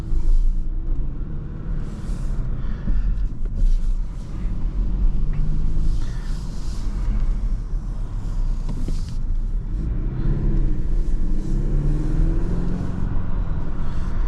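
A 2023 Kia Stinger GT-Line on the road, with a steady low engine and road rumble that stays loud and continuous throughout, swelling slightly at times as the car drives along.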